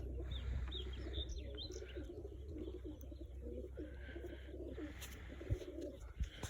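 Pigeons coo repeatedly in soft, rolling calls nearby in a pigeon coop, with occasional chirps and a low background hum.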